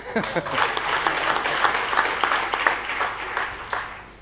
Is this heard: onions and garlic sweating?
no